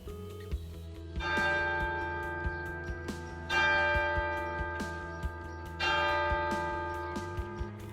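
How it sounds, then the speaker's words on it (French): Church bells of the Sainte-Anne church in Turckheim, Alsace, ring in slow, resonant strikes, three clear peals each swelling and fading, with a lingering ring between them and no voices. "On entend les cloches de l'église Sainte-Anne."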